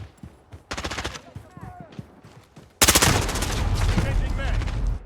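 Rapid bursts of automatic gunfire in Call of Duty: Modern Warfare, sparse shots at first and then a loud, sustained volley of overlapping rounds, with game radio chatter in the background.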